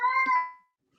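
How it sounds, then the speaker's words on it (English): A single close, clear cat meow, a drawn-out tonal cry lasting about half a second and then fading into near silence. "Whoa, cat. That's enough out of you."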